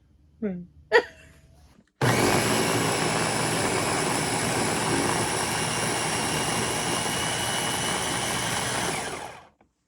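Ninja blender running loud and steady for about seven and a half seconds while blending salsa with onions and tomatoes in a home kitchen, following two brief bumps and a short bit of talk.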